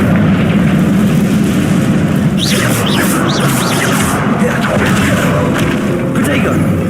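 Confringo blasting spell detonating in a Harry Potter video game: a loud, sustained booming rumble with whooshing, swept bursts in the middle, and a voice faintly over it.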